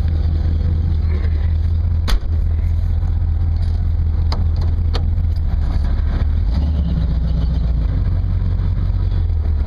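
Old truck named Cletus pulling away, a loud steady mid-pitched engine drone with low rumble, a couple of sharp clicks or clunks early on, and the engine note shifting slightly as it drives.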